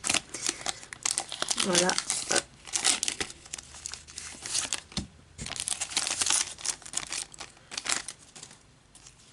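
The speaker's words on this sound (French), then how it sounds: "ces boosters sont très sympathiques à ouvrir" Crinkling and tearing of Pokémon booster pack foil wrappers being ripped open up close, sharp crackly bursts in irregular runs, with a voice speaking between them.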